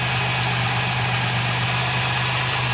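A 2001 Chevy Camaro with a 3.8-liter V6 idles steadily and close by, a continuous low engine drone with a smooth, even hum and no voices over it.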